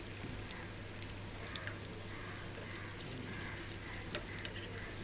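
Teka leaf pakoras frying in oil, a steady soft sizzle with scattered crackling pops running continuously and fairly quietly, with no talk over it.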